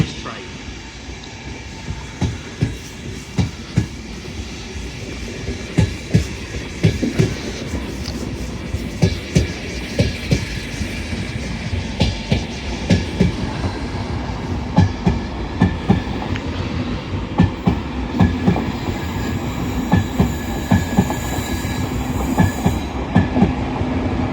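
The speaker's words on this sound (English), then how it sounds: "Departing now is 82205, bound for London King's Cross from Bradford Foster Square." An LNER train pulling out of Doncaster station on the East Coast Main Line, rhythmic wheel clatter building over the rail joints with a loud, steady rumble close by and faint squeals near the end.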